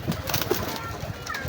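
Pigeons kept as a rooftop flying hobby coo softly with a few faint wing flaps, heard at moderate distance under background murmur.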